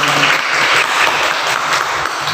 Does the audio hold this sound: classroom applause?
yes